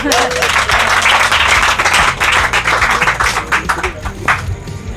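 A church congregation at a married couples' gathering bursts into loud, continuous clapping that stays dense for a couple of seconds, then thins into scattered claps and fades slightly toward the end.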